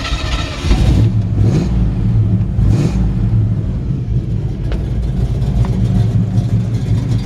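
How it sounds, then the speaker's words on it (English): A 1953 Ford F-100 engine runs loud and close, a deep rumbling idle with a few sharp revs blipping up early on before settling back to a steady throb. "Got a great sounding engine."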